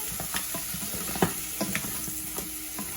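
Steady sizzling of blue crab frying in a hot pan, with occasional soft clinks and stirring taps over the constant crackle.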